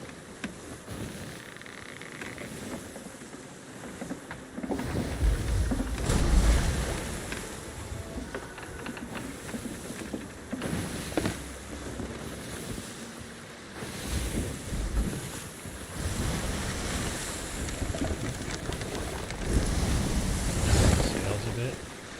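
Waves and wind in the Sea of Thieves game as a sailing ship runs under full sail, a rushing swell of water and gusty wind rising and falling in surges, with a voice speaking over it at times.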